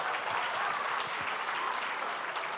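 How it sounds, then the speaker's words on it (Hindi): Steady, dense applause from an audience at an Urdu poetry game event, Baitbazi at Jashn-e-Rekhta 2018, welcoming a team; the clapping is continuous and fairly loud throughout with no talk. "जोरदार तालियों से इस्तकबाल की।"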